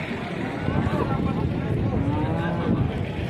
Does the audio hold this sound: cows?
yes